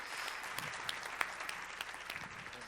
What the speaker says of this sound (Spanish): para quien por favor pido un fuerte aplauso